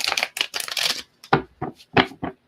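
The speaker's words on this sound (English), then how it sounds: "One more shuffle, one more shuffle." Tarot cards are shuffled by hand in a rapid riffle of crisp flicks, then a few separate sharper slaps and taps as the deck is handled, close and clear with no talk.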